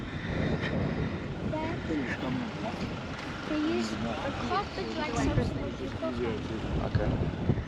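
Strong wind blowing hard outdoors at a riverside spot called Long Pools, roaring steadily against the microphone with gusting buffets, while people talk faintly underneath.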